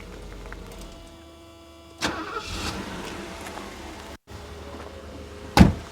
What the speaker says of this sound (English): But we'll fire it up and see how this one runs.